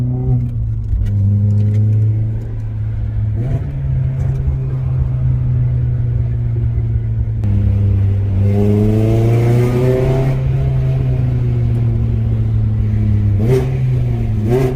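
Renault Clio RS engine revving on small country roads, heard from inside the cabin through an open window: a loud, continuous rasp whose pitch climbs and drops through several gear changes, with no talk.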